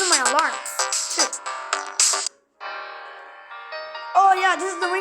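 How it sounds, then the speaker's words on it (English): A Samsung Galaxy A03 ringtone plays up close, a busy electronic melody of quick, bright, bending notes that breaks off briefly at the midpoint, then returns with sustained tones and warbling phrases. "this is the ringtone I use now"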